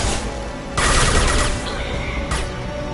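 Rapid gunfire aimed at tanks in the video game Mass Effect 2, a sustained burst of automatic shots that swells loudly partway through and then continues steadily under game ambience, with no talking.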